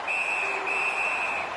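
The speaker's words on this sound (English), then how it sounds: "He hangs on and gets the whistle." A referee's whistle in the NHL 19 hockey video game: one long, steady, shrill blast with a brief break, sounding over constant arena crowd noise.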